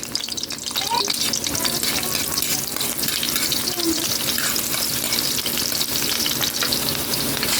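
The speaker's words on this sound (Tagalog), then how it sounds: "Tala ko na po yung bawang. Kasabay ko na po yung sibuyas." Garlic and onion fry in hot oil for tokwa't baboy, a steady loud sizzle filling the whole stretch with faint clinks of stirring mixed in.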